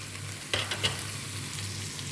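Shrimp, carrot and vegetables fry lightly in a pan with a spray of oil, making a faint, even sizzle with a couple of brief stirring scrapes and a low steady hum underneath.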